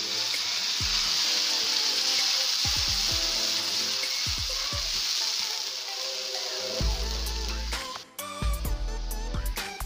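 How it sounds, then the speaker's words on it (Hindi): Tomato and green chili puree sizzling in a hot pan, a steady bright hiss throughout that dips briefly near the end, with soft clinks and background music. "अब हमने ये जो टमाटर प्यूरी बना के रखी है टमाटर और हरी मिर्ची की वो हम इसमें ऐड कर देंगे"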